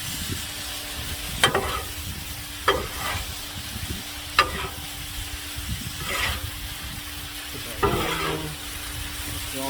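Hawaiian chicken fried rice with grilled pineapple being stir-fried: a steady sizzle runs throughout, broken by several sharp scraping and clattering stirs of the spatula against the pan, with no voices.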